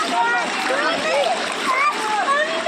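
People jump and splash into a river, the water splattering in quick, close bursts while voices chatter and call out over the splashing.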